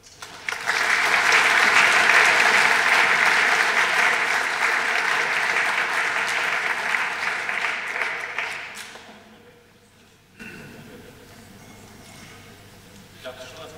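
An audience at a talk on press freedom applauds to welcome the speaker Georg Mascolo, a loud sustained clapping crowd that fades out after about nine seconds, followed by quieter room noise.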